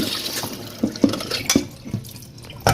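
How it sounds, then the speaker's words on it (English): Dried hibiscus (zobo) leaves being washed by hand in water, with irregular sloshes, drips and splashes spaced out across a few seconds, fairly close and clear. "the next step is I'm washing my Zobo leaf, which is the hibiscus flower"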